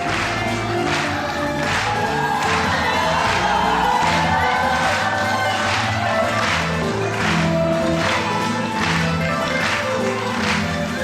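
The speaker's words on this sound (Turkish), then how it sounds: "Kuvvetli alkışlarımızla Zeynep Hanım" Studio audience on a Turkish television show applauding and cheering a contestant named Zeynep, a loud continuous wash of clapping and crowd noise with rhythmic accents and music underneath.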